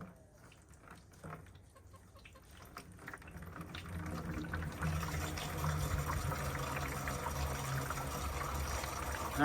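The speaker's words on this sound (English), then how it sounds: "you can hear it filling up" A hose fills the container of an automatic watering system: quiet at first, then a steady rushing, gurgling flow of water that builds and holds, with chickens clucking faintly in the background.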